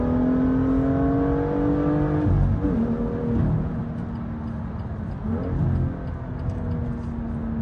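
A BMW engine revs steadily up toward redline, a loud sustained drone climbing in pitch, then drops and climbs again in two further pulls, with no voices over it.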